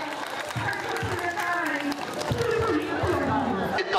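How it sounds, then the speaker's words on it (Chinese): A festival crowd at a temple procession claps and chatters, with steady applause over a dense, continuous crowd din and voices mixed through it. "是不是给咱鼓掌"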